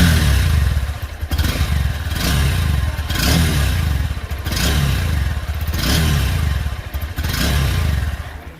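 A 2025 Honda Hornet 2.0 motorcycle engine runs loud and close after starting, holding a steady throb with gentle pulsing swells every second or so, and no voices over it.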